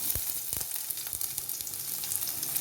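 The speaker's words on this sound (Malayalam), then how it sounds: "കടുക് പൊട്ടി ഇനി ഉള്ളി ഇട്ട് കൊടുക്കാം" Chopped onion dropped into hot oil with popped mustard seeds for a colocasia stem thoran, crackling in a steady close sizzle with sharper pops and spits scattered throughout.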